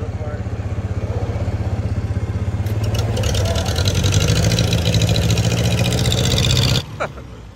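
The engine of a 1950 Farmall Cub tractor, troubled by stuck valves, runs with a loud, steady, rapid putter that rises slightly as throttle is added, then cuts out abruptly near the end.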